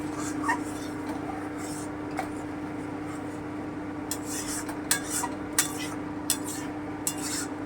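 A spoon scrapes and stirs spice masala in a cooking pan over medium heat for egg korma with duck eggs, with soft, faint rubbing at first and then a run of sharper clinks and scrapes.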